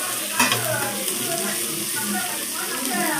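Ingredients stirred in a kadai with a pinch of oil, giving a steady close frying hiss with soft scraping strokes throughout, and a sharper clink near the start.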